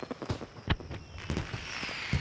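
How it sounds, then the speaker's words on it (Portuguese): Cartoon fireworks popping and bursting, a scattered series of sharp cracks, some louder and some fainter, crackling at moderate loudness. "Ah, os fogos são muito barulhentos."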